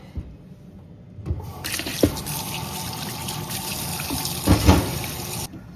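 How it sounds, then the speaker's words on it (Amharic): Tap water runs steadily into a kitchen sink as raw fish is rinsed under it, a continuous close splash starting after a moment of quiet, with a few louder splashes near the end before the flow stops. "አሁን አሳችንን እናጥባለን"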